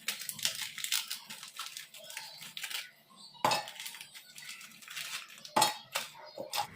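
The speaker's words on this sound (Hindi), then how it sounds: "यहाँ पे मैंने मिक्सी जार में डाल दिए हैं ये ओरियो के बिस्किट" Oreo biscuits tipped into a kitchen mixer jar, giving a run of light clinks, rattles and crinkly packet rustles in irregular bursts, with two sharper knocks, fairly close and alone.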